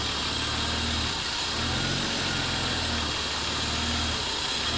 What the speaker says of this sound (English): there's also the idle surge is still present, unfortunately